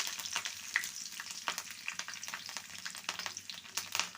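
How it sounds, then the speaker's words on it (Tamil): Mustard seeds, urad dal, fenugreek and curry leaves sizzle and crackle in hot oil, a steady close frying hiss punctuated by sharp pops and spatters throughout, with no talking. "கடுகு உளுந்து, வெந்தயம், கருவேப்பிலை சேர்த்துக்கிடுவோம்."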